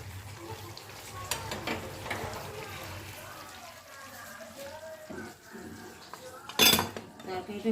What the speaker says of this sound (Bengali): তরকারিটা বাটিতে বেড়ে ফেলবো